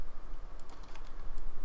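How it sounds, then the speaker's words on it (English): A few sharp clicks come from a computer keyboard while someone works in After Effects, standing out faintly over steady room noise. "I'm going to hit S on the keyboard"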